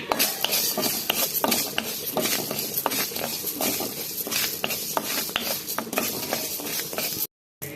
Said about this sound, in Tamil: அது கூடயே ஜீரகமும் சோம்பு சேர்த்து வறுத்துக்கலாம்